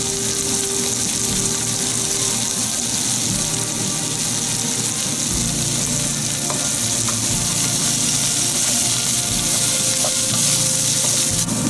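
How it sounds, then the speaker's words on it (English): Onions and grated coconut frying in a pan for a crab dish, a loud, continuous dense sizzle and crackle throughout with occasional stirring, no talking. "We're going to fry this till golden, and then we'll make a paste out of this."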